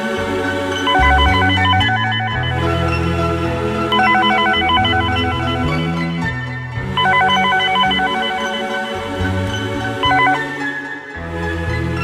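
A telephone in a Malayalam TV serial scene rings with a loud, melodic electronic ringtone that repeats in a steady pattern, alone and close.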